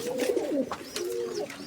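Fancy show pigeons coo in a loft, a close run of soft, rolling coos with a few faint chirps between them.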